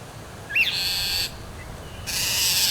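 A bird calls near a garden rose bed with a sharp, clear whistled note, then bright, sustained high-pitched calling. It is heard alone over a faint outdoor background.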